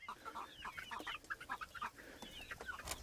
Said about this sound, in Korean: 또 닭을 키우며 자연의 혜택을 마음껏 누리신다고 하네요